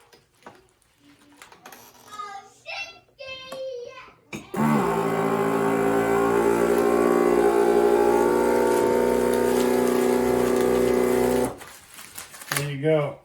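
A vacuum sealer runs on a slippery Mylar food storage bag, giving a loud steady mechanical hum with a whine for about seven seconds, preceded and followed by brief talk and handling noises.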